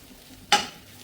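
A single quick scrape of a utensil through chicken thoran with coconut and crushed fennel in a pan, a short bright sizzle-and-stir burst over a quiet background.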